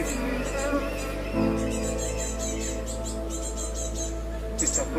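Bees kept in Rwanda buzz steadily and close, a dense continuous drone with higher whining passes rising and fading, over a constant low hum and faint background voices.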